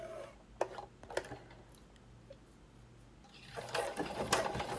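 A sewing machine runs a straight stitch through a strip of Velcro for a port pillow, with quiet clicks and short bursts of stitching that build into a louder, faster run near the end.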